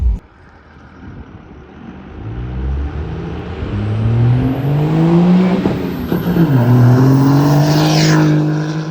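Turbocharged car accelerating past at speed, a rising engine whine climbing in pitch over several seconds with a brief shift dip, growing louder as it nears, with no talk.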